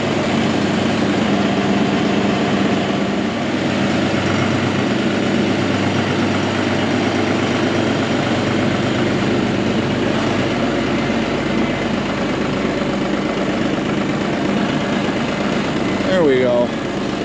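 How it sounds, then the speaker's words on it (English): A New Holland tractor engine idles steadily as it warms up outdoors, a continuous low rumble holding level throughout, with wind noise around it. "I want to take the tractor outside so it can warm up"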